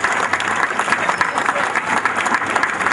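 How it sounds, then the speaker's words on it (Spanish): Applause from a gathering welcoming new hydraulic rescue equipment, a latest-generation North American Holmatro set, for firefighters; steady dense clapping fills the whole stretch with crowd murmur mixed in, no clear voice over it. "Un momento sin duda importante, que lo recibimos con este aplauso."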